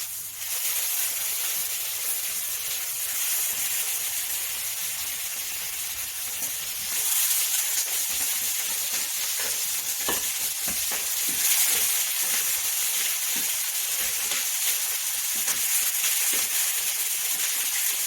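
Olive oil sizzles steadily in a very hot pan, a continuous bright hiss that stays fairly even throughout with small crackling pops and no talking.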